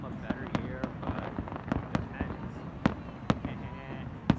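Fireworks bursting at a New Year celebration, a rapid irregular string of sharp cracks and pops, some near and loud, others distant, over a constant rumbling crackle.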